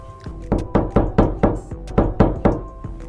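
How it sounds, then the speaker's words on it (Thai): Slow, evenly spaced knocks on an apartment door, about ten firm raps in a steady measured rhythm, close and clear with no voices. "เสียงเคาะประตูหน้าห้องของเขาก็ดังขึ้น"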